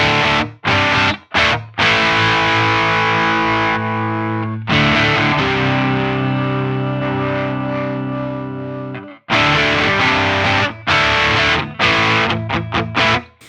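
Loud overdriven electric guitar chords through an Axe-Fx III Lovepedal Eternity drive model, gritty and distorted, struck in short choppy bursts with a long ringing chord sustained through the middle.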